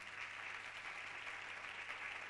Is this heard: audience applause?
yes